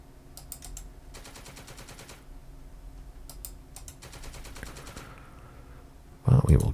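Repeated bursts of automatic gunfire in the PC game Second Front, rapid rattling volleys broken by short pauses, ending in a sudden loud burst.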